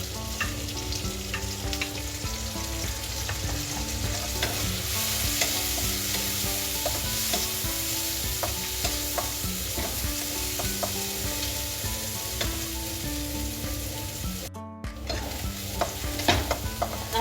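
Onions frying and being stirred in a pan with garlic ginger paste for lentil daal bhuna, a continuous sizzle broken by frequent scraping and clinking of the spoon, with music playing underneath and no voices.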